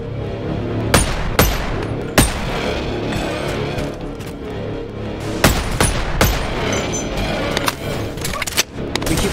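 Gunfire in the VR shooter Boneworks, with loud, close shots in irregular single cracks and quick bursts over a dense rumbling game background.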